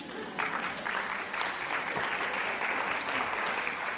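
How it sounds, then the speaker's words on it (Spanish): Audience applause at a digital citizenship and literacy event in Chile, a steady wash of clapping that fills the whole moment, fairly faint and distant, with no talking. "Aplauso, por favor."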